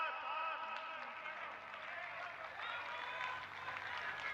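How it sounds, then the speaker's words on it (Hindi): A crowd applauds at BJP party headquarters in Delhi, a faint, distant wash of steady clapping with some tonal background sound, continuous for a few seconds. "हम सब जोर से तालियों के साथ"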